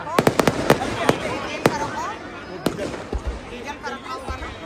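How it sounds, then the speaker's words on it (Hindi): A quick burst of firecracker pops opens the clip at a Dussehra Ravan Dahan celebration in Nainital, then scattered louder bangs follow under a busy crowd murmur. "प्रतीक आतिशबाजी आप सबके बीच प्रस्तुत की जा रही है।"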